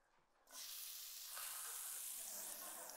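Chopped onions hit a thin layer of fresh olive oil and burst into a loud, steady sizzle that starts abruptly and holds bright and close throughout, with no talking.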